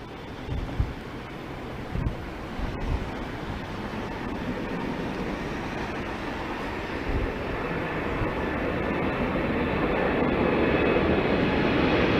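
A Boeing 777 airliner at an airport produces a broad jet-engine roar that builds steadily and grows louder, with a few faint knocks early on.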